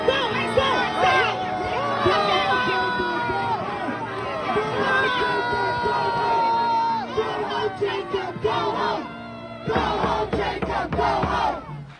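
Large crowd at a protest rally about dismantling police in Minneapolis, shouting and chanting loudly together in surging bursts, with voices calling out near the microphone and a brief dip before the roar resumes.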